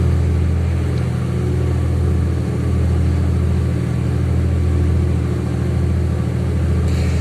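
An old diesel car engine idles steadily and loudly up close with a rough, tractor-like rumble, running without a break and with no other sounds.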